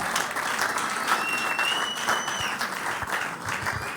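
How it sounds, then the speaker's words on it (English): A conference audience at a fertility panel session gives a round of applause, dense and steady throughout with a few faint whistles above it, fairly loud and without speech. "Please, let's give them a round of applause."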